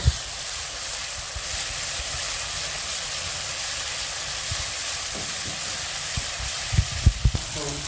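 Tomato masala with ginger-garlic paste frying in a pan, a continuous broad sizzling hiss with a few soft stirring knocks near the end.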